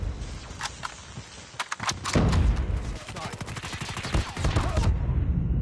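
Bursts of rapid gunfire from Call of Duty Mobile multiplayer crackle in quick volleys, loud and sharp, with brief pauses between strings of shots over faint game sounds.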